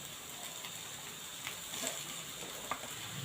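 Three medium onions, sliced lengthwise, soften in hot oil, giving a quiet, steady sizzle with a few soft clicks of stirring.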